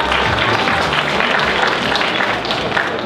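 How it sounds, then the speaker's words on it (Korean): Steady, full applause from an audience welcoming a presenter at a Korea Expressway Corporation recruitment briefing at a 2014 public-sector job fair, close, loud and unbroken throughout. "큰 박수 부탁드리겠습니다"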